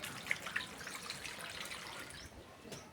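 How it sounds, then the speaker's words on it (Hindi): Water is poured into a container in a village home, a faint, soft trickle and splash that runs for a few seconds with no talking. "इसमें मैं डाल रही हूँ पानी।"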